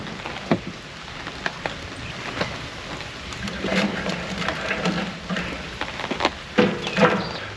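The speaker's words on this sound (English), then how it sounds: "listening to the rain under the awning" Steady patter of rain drumming on a camper van's overhead awning at a campsite, with scattered louder drips and taps throughout.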